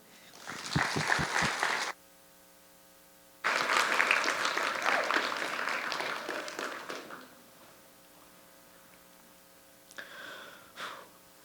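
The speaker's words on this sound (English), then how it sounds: "Let's give a huge round of applause to Aiden C in his presentation, A Sustainable World." Applause for a student presentation on a sustainable world comes in two bursts of clapping separated by a quiet gap, the second longer and fading gradually, with a short faint flurry near the end.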